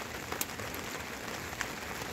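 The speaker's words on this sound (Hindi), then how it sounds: "इतनी बारिश चल रही है आज ना" Steady, dense hiss of heavy rain pouring down at a nomadic shepherds' camp, constant throughout with a few brighter spatters, close and enveloping.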